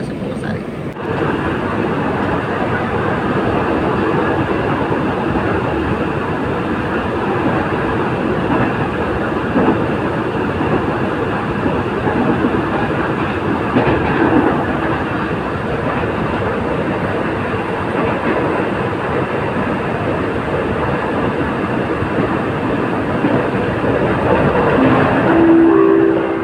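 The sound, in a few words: commuter train running on rails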